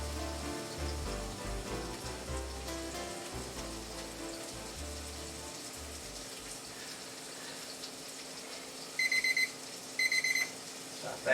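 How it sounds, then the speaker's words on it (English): A kitchen timer beeps in two short bursts of rapid electronic beeps near the end, after a stretch of faint kitchen noise and running water. "Stop that timer."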